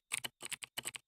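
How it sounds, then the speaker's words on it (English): Computer keys clack in quick irregular bursts as a head smacks down on the keyboard, several close, sharp clusters of presses with brief gaps between them. "just smacking my head on the keyboard here."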